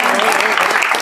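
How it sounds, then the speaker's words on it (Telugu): A group of kids at a New Year celebration in a pain clinic claps in a brief, quick burst, mixed with their voices. "Very good. క్లాప్."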